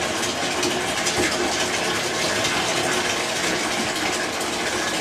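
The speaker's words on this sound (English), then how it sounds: "I fill it up with water, about half full." Water gushes from a hose into a medium-sized lidded trash can, used as a wet pail for diapers, in a loud, steady, close filling rush with no pauses.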